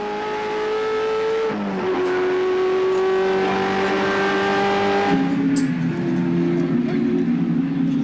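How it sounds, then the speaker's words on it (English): Holden Commodore touring car racing at Sandown in 1987, its engine held at a loud sustained high-revving drone, shifting gear twice with brief pitch drops before climbing again, close by on track. "Number 7, Cameron and Wilkerson in the Can-Am Commodore"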